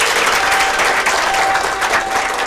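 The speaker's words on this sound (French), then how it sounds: "un tonnerre d'applaudissements pour mes sponsors, Tésar et Canal+. Applaudissez pour eux." An audience claps loudly and steadily, a dense wash of applause that continues without pause.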